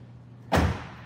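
Suicide-style rear door of a Mazda RX-8 being shut, a single solid thump near the microphone over quiet background.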